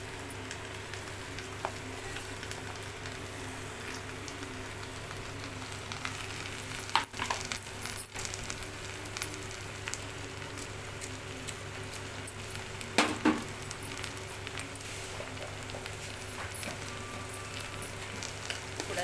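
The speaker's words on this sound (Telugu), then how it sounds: "ఇప్పుడు ముందుగా కడిగి కట్ చేసి పెట్టుకున్న బెండకాయ ముక్కలు అయితే వేసుకుందాం" Washed, cut okra pieces frying in a pan with onions for an okra-tomato curry, a low steady sizzle with occasional scraping stirs and a couple of sharper knocks, close and moderately quiet.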